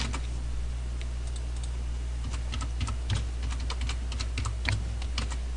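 A computer keyboard clatters with quick irregular keystrokes as a password is typed, close and clear over a steady low hum, with no voices.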